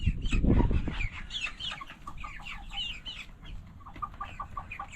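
Chickens cluck and chatter nearby in a busy, overlapping stream, with a louder burst of low rustling and movement at the start.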